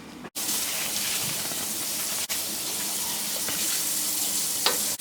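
Tomatoes sizzle loudly in a pan of melted butter with cooked onions, a dense continuous hiss and crackle broken by two brief dropouts, close and alone with no talking.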